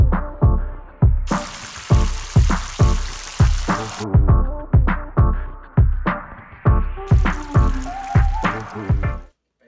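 Lumpia fry in hot oil, with about a dozen sharp, evenly spaced bursts of bubbling sizzle, each fading quickly. The sound is loud and close, then cuts off at the end.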